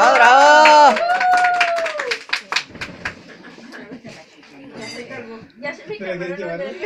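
Clapping and cheers at a birthday party while gifts are opened, with a short burst of applause amid lively voices, laughter and children talking over the scene.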